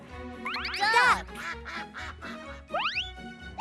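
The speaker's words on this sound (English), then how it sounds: "Duck." A duck quacks repeatedly in loud, close, nasal calls with short gaps between them, in a children's cartoon.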